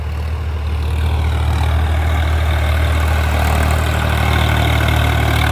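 A Swaraj 855 tractor engine runs steadily at a low, heavy idle, close and loud with a constant droning rumble and no interruptions, out in a farm field being levelled.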